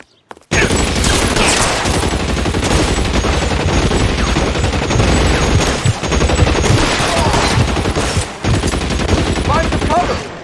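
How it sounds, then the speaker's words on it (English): Dense, continuous gunfire in an L.A. Noire shootout, with rapid bursts and booming shots filling the whole stretch, loud and close, with voices shouting underneath. "Shots fired."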